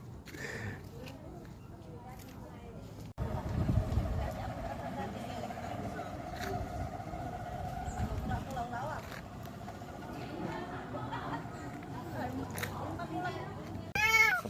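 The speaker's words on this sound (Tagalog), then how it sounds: "Ito yung mga nirescue nating pusa mga master." Rescued kittens meow repeatedly in a vacant lot in Calasiao, Pangasinan, their cries rising over steady background noise while people talk nearby.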